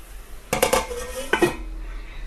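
A metal lid set onto a pan of egg curry masala, a quick cluster of clattering clanks followed by a second clink with a brief ringing tail, close and clear.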